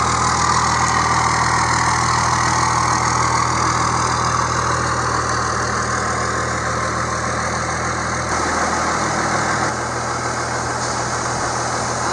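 A 1998 second-generation Dodge truck with a 12-valve Cummins diesel idles close by, giving a loud, steady rumble with a constant low drone that holds unchanged throughout.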